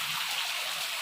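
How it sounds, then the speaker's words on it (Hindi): Heavy rain pours down steadily outdoors, a dense, loud, continuous hiss with no talking. "इतनी तेज़ी से बारिश हो रहा है"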